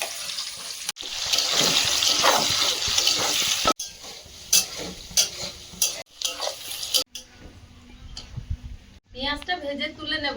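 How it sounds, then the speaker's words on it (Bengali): Chopped onion drops into hot oil for chicken biryani, bringing a loud, dense sizzle with stirring scrapes. The sound breaks off in several cuts and ends in a quieter, clattering stretch, with no speech. "তেল গরম হয়েছে এখন প্রথমে তেলে পেঁয়াজ কুচিটা দিয়ে দেবো"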